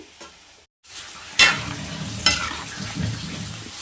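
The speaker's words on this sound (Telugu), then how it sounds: "ఇంకొద్ది గోల్డ్ కలర్ వచ్చే వరకు ఫ్రై చేసుకుంటే సరిపోతుంది ఇంకొక ఫైవ్ మినిట్స్ ఫ్రై చేయనిద్దామండి" Chicken pieces for pickle fry steadily in hot oil, a continuous close sizzle broken by a brief drop-out and a couple of sharp stirring clanks, with no talking.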